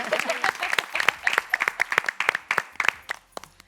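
Scattered, uneven hand claps from a single contestant applauding herself on the Turkish word game show Lingo Türkiye, sharp individual slaps in a loose rhythm, fairly close, fading out near the end.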